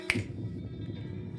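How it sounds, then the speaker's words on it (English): One crisp finger snap near the mic, a single sharp click on its own, trailing off into a quiet room. "I snap my fingers."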